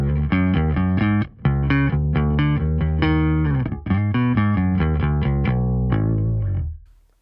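Bass guitar played through cab impulse responses with no distortion, a thick, muscular tone of sustained notes and a few quick gaps, loud and close, fading out at the end.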